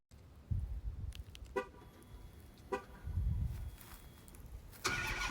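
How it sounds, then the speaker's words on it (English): A Dodge with Corsa Xtreme exhaust and JBA long-tube headers, running catless, cold-starts: a short cranking burst, then a deep rumbling catch and settling idle, heard nearby with a few sharp clicks and a bright hiss at the end. "Yeah, let's get a cold start."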